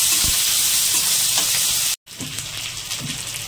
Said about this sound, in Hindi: तो प्याज को हमें यहाँ पर इतना ही भूनना है